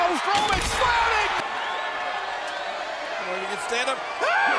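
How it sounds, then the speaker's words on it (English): In a wrestling match, a wrestler body-slams an opponent: a sharp, heavy slam against the mat rings out near the start, with crowd noise and excited commentary running over it. "Strowman slamming!"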